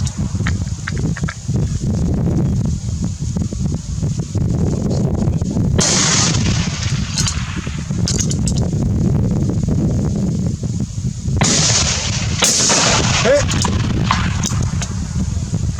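Rifle shots ring out at outdoor pre-season target practice with a new rifle, a few sharp reports spaced seconds apart over steady wind noise on the microphone.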